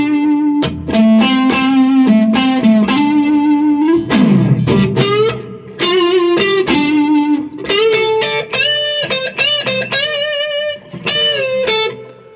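Electric guitar in standard tuning plays a slow blues solo in D, with held notes, string bends and short phrases, loud, clear and close, with no talk over it.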